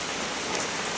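Steady, dense rain falls on an open courtyard as an even hiss of drops on the ground, close and continuous with no voices.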